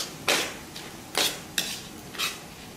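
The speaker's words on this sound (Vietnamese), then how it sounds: "tí nữa chỉ đảo qua xong rồi cho nước vào nữa là thành một nồi nước lẩu" A Vietnamese fermented-rice (mẻ) hotpot broth is stirred in a pot, giving four loud, scraping strokes at uneven intervals over a low background, with no voices.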